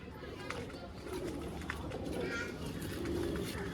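A calm pigeon, probably a hen, coos softly amid a busy, noisy setting with background chatter and faint voices.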